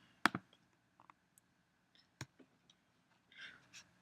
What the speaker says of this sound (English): You can choose how to view its contents by control-clicking the folder in the dock.